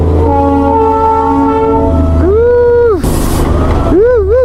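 A Darjeeling toy train pulled by a coal-fired steam engine sounds several wavering whistle blasts over a low rumbling drone, with a burst of hissing noise between them and people talking nearby.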